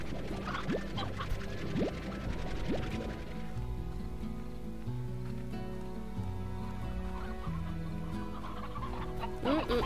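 Chickens cluck repeatedly in the video game Slime Rancher over a continuous musical background, the clucks scattered and moderately loud.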